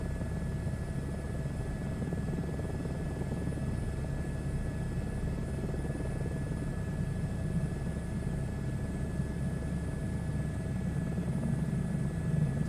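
A helicopter in a VR flight game flies toward a farm airstrip, its rotor and engine drone steady and loud throughout, with no talk over it.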